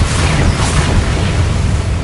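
A Confringo fire-blast spell going off in Hogwarts Legacy produces a loud, sustained booming rumble with heavy low end and crackling noise, steady and unbroken for about two seconds, with no voices.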